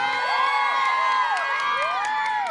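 A crowd at an outdoor food-stall giveaway shouts and cheers together on cue, a sustained roar of many voices with rising whoops, loud and continuous throughout.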